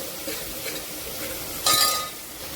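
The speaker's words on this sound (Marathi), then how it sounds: "हळद टाकल्यानंतर छान मिक्स करून घ्यायची ती फोडणी" Turmeric stirred into a sizzling tomato tempering for masala khichdi, a steady low fry hiss running throughout with a brighter, louder burst of sizzle and scraping near the end.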